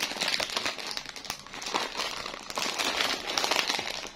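Bag of Tiger lemon-flavoured potato chips torn open and handled close up, a burst of crisp plastic crinkling and rustling that comes and goes in uneven waves.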